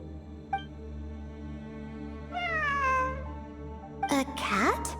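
A cat meows inside the Genshin Impact video game, a couple of clear rising-falling cries standing out near the listener over a steady game ambience with background music.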